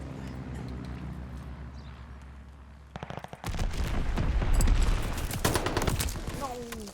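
Gunfire and an air bombing run in the video game Call of Duty: Vanguard, with a steady low drone giving way to loud, dense bursts of shots and explosions that keep rumbling to the end.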